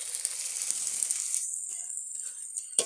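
Paratha frying in hot ghee in a pan, a steady bright sizzle and hiss that thins out toward the end, heard up close with no voices.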